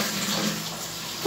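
Cold water gushing from a tap at high pressure on a hot day, a steady broadband rush that holds evenly throughout, with a brief brighter splash near the end.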